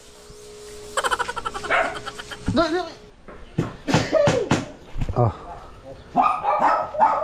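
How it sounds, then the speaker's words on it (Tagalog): A dog barks in loud, close bursts around a guest house, with several sharp barks under and between people talking and calling out. "Ang ingay ng aso na."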